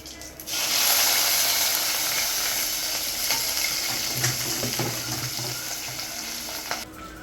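Mustard seeds, cumin, green chillies and onions frying in hot oil for a banana curry, giving a steady loud sizzle with crackling and popping throughout, no talk.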